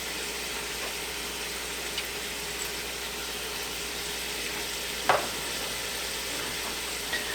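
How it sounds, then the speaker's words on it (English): Chopped garlic and crushed red pepper sizzle in a soup pot with a soft, steady hiss, broken by one sharp scrape near the end. "I am going to go ahead and throw in the garlic and the crushed red pepper at this point."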